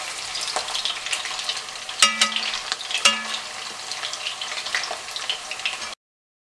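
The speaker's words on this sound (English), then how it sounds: "The fish sausages have been fried, and they have to be fried in medium flame and do not over fry them." Chitol fish sausages (muitha) frying in a pan over medium flame, a steady close sizzle with a couple of sharper clinks from stirring, then abrupt silence.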